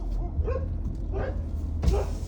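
A dog barks in short bursts near a gymnasium ground, three separate yips and woofs spread across the moment, fairly close with some background noise.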